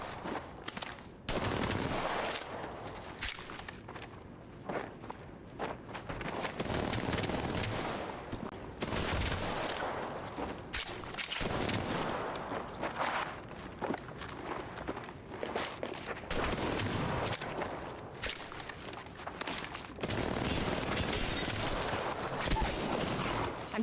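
Sustained gunfire in the video game Apex Legends: rapid automatic bursts and overlapping volleys fill the whole stretch, loud and dense, with brief gaps between exchanges and occasional mechanical clanks.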